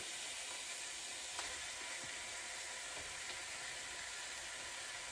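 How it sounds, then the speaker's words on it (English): Ground beef sizzles and fries in a pan as it is broken up into small chunks, a steady close hiss with faint scraping and no voices. "we're gonna break this up as small as we can so we can get like little ground beef chunks in all of our pasta"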